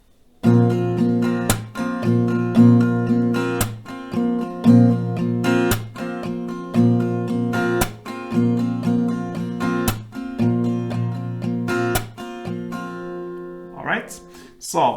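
An acoustic guitar strums a repeating down-up pattern with claps between strokes for a song, a steady rhythmic loop played close up, ending in a brief noisy pause.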